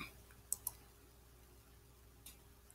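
Mouse clicks on a screen button, two quick faint clicks in a row followed by a softer third click after a pause, in a quiet room.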